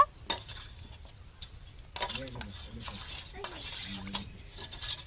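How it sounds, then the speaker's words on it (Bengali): A spoon stirring cornflour into milk in a metal pot, repeated scraping clinks and rattling strokes against the pot, close and fairly clear, with faint talk in the background. "তিন চামচ কর্নফ্লাওয়ার দিয়ে দিলাম ভালো করে মিক্স করে নেব"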